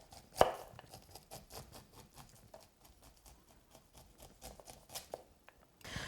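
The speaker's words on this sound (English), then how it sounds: "you can typically just do this by sliding the knife right down, and that will take each individual kernel off" A knife slides down a fresh corn cob, cutting the kernels off. There is one sharp knock at the start, then a string of quiet, irregular taps and scrapes close by, with no talking.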